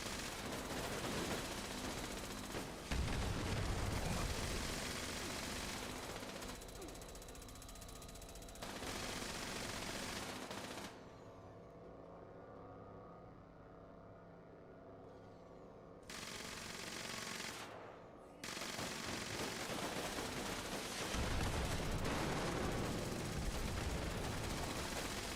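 Gunfire aimed at the player in Fallout 76, heard as bursts of rapid mechanical shooting with pauses between them, with loud stretches broken by quieter gaps.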